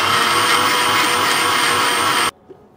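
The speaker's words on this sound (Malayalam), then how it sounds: "ഇത്രയും നന്നായിട്ടൊന്ന് ഗ്രൈൻഡ് ചെയ്തെടുക്കാം" A kitchen mixer grinder whirs at high speed, grinding mint and coriander leaves into a paste, a loud, steady close-up motor drone that cuts off abruptly near the end, leaving quiet.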